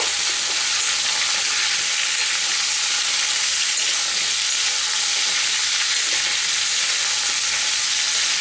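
Ridge gourd, eggplant and drumstick vegetables frying in a pan over a medium gas flame, producing a loud, continuous, even sizzle with no pauses.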